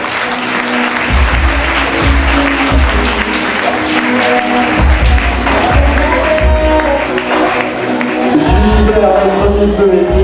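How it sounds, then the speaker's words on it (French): Audience at a Miss Beauvaisis 2018 beauty pageant applauding, a loud sustained round of clapping lasting about ten seconds with crowd murmur. "Un petit applaudissement, messieurs, dames, soyez pas timides."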